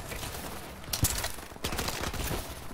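Gunfire in a Call of Duty: Advanced Warfare Kill Confirmed match with the ASM-1, heard as rapid bursts of shots over a busy, muffled game background.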